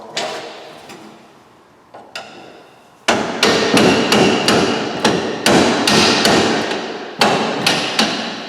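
A hammer drives a cross bolt out of the bottom of a Hyundai Sonata front suspension strut. A few light taps come first, then a run of about a dozen loud, sharp metal blows in an irregular rhythm, close up.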